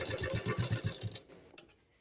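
A sewing machine stitches a lined kurti in a quick run of rapid, even needle thumps for about a second, then stops with a faint click and quiet.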